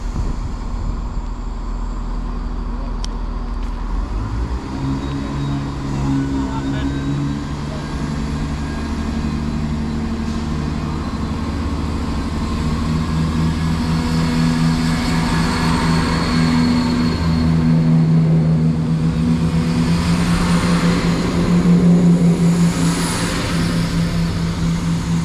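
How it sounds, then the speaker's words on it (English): A British Rail Class 170 diesel multiple unit pulls out of a station, its low engine drone building steadily as it departs, with a continuous rumble and rising tone over about twenty-five seconds, no voices. "Okay, going out now is 170 201."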